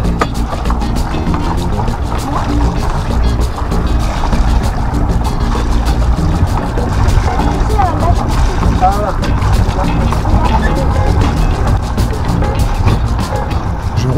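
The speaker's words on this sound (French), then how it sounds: "Voilà ce qui se passe lorsque l'étouffoir qui permet d'éteindre le moteur n'est pas repoussé à fond." Sailboat inboard engine still running because the stop control is not fully pushed in, a constant loud chugging drone on board during coastal sailing, with a voice speaking over it.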